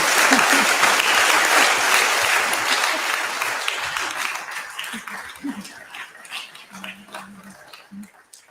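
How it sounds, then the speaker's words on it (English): An audience claps loudly together, then the applause thins and fades out over several seconds as a few scattered claps and murmurs remain. "let's just give them a round of applause"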